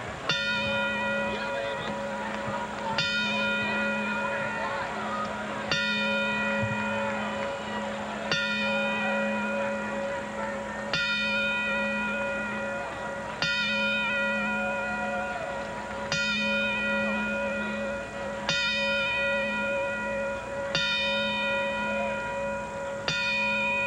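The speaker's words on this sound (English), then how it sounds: "we would like to play our traditional 10-bell salute in his memory" A boxing ring bell rings ten times at an arena fight, each clang spaced about two and a half seconds apart with long ringing decay, as a traditional ten-bell salute in a hushed hall with faint crowd ambience.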